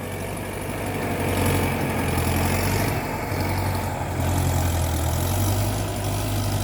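A tractor engine idles steadily, a loud close low rumble with a throbbing chug and slight rises and dips, no voices heard.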